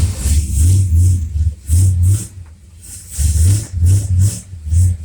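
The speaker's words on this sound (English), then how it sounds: "we're going to start it up now and pump that first fill of power steering fluid through the power steering system" Mopar engine with a Federal-style power steering pump cranking and firing in repeated bursts, each loud rev-like roar separated by brief pauses, close and without talk.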